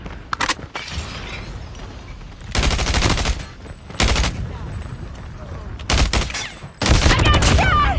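Video game gunfire in Call of Duty Mobile, ranked multiplayer: repeated loud bursts of automatic fire and sharp shots in clusters, separated by brief quieter gaps with background game ambience.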